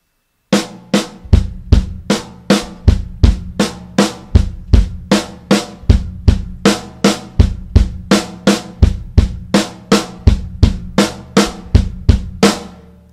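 A steady, evenly spaced drum pattern: sharp bright hits with deep kick thumps played with heel-toe bass drum technique, repeating at a brisk, unbroken pace throughout.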